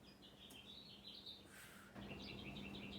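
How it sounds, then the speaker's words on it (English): Birds chirp and tweet outdoors in steady repeated bursts, moderately faint against a constant low hum, with no one talking. "And the birds are chirping."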